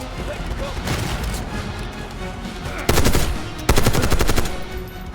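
Light machine gun fire in the Call of Duty Black Ops 6 video game: two long, loud, rapid bursts of automatic fire over a constant din of battle.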